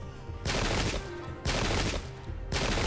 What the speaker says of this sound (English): Nice shots from those match-like Ashigaru units